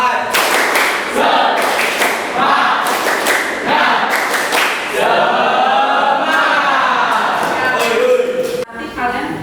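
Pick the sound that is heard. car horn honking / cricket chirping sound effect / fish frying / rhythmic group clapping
rhythmic group clapping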